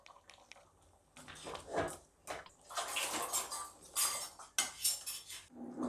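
Ground coconut paste poured into a cooking pot for a goat intestine gravy, heard as soft wet splashes and squishing with clinks of a metal utensil against the pot, close and fairly quiet.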